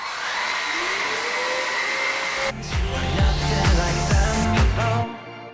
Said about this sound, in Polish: Zabieram się za odkurzanie i już będzie prawie koniec.